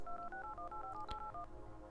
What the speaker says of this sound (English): Let's phone Christopher Lawrence.